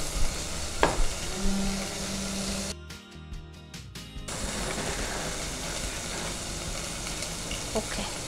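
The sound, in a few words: white chicken shallow frying in pan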